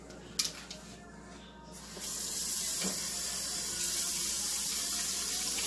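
Water from a tap splashes into a blender with a steady broadband rush after a couple of seconds of quiet clinks, continuing close and fairly loud.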